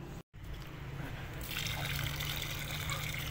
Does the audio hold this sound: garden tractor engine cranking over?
no